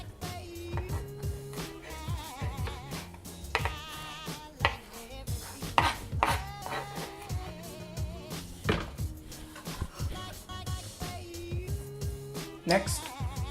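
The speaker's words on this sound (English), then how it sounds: "And you want the clove finely chopped." A knife chops a garlic clove finely on a board for fish tacos, with quick, irregular taps over steady background music.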